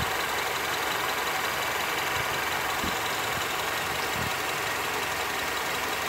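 A 2006 Honda Civic with a 1.8 liter engine idles steadily while warming up, a constant close hum and whir with no pauses.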